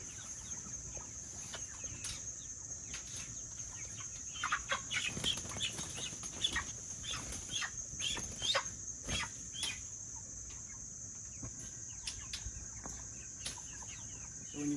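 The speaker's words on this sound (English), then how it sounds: "So when you grab your birds, you just put them upside down." Live chickens cluck and chatter in a farm setting before processing, a steady low flock murmur with scattered sharper calls and a constant high insect-like whine over the whole stretch.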